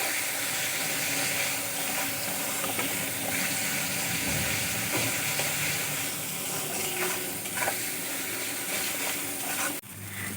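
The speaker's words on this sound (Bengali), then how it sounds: "যতক্ষণ না গন্ধ যাচ্ছে কাঁচা মশলা, ততক্ষণ ভাজা ভাজা করে নেব" Raw spice paste frying with onion in a pan while cooking taro stolons with prawns, a steady close sizzle with soft stirring scrapes running throughout, without any talk.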